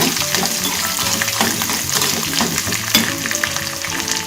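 Peanuts fry in hot oil with a loud, dense, continuous crackling sizzle close by, and no voices over it.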